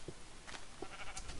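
A sheep in the video game Minecraft bleats a few short times over a busy game background, fairly close and moderately loud.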